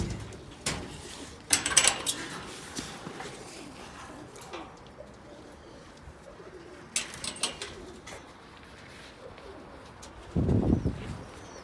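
Low soft pigeon coos at moderate distance, with scattered clicks and rustles around them, then a closer burst of cooing near the end.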